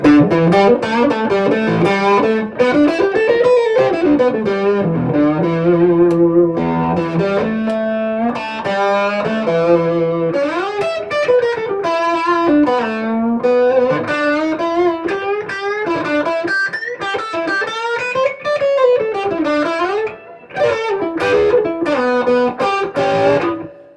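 An electric guitar with heavy distortion plays bluesy rock licks, sustained bends and gritty chords ringing loudly and continuously without any talk.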